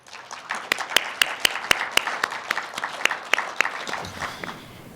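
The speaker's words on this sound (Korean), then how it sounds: "나오실 때 큰 박수로 맞아주시기 바라겠습니다." A small audience at a press conference on North Korea gives a brief round of clapping, separate sharp claps in a loose, uneven rhythm that thins out after a few seconds.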